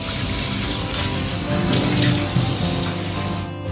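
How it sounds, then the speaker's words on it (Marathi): Fish (bangda and lepa) being rinsed clean under a running kitchen tap, a steady close gush of water splashing in a sink for the whole stretch with no talking. "आधी पहिले स्वच्छ धुवून घेऊया मच्छीला"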